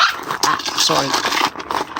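A dog barks at shadows indoors, giving a few sharp, close barks and yips with a low growl, mixed with a person talking over it.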